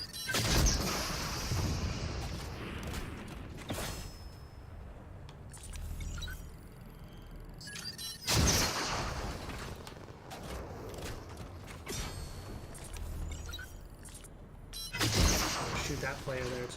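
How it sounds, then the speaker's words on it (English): Bursts of gunfire in Fortnite ring out in three loud clusters a few seconds apart, sharp cracks and booms over a background of game ambience and clattering mechanical noise. "They're shooting someone."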